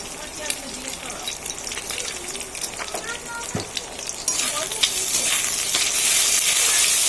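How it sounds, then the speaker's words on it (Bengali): Eggs frying in hot oil make a continuous close sizzle with scraping stirs, the hiss growing louder and brighter partway through as the eggs spread in the pan. "তেল গরম হয়ে গেছে, এবার আমি তেলের মধ্যে ডিম দিয়ে দেবো"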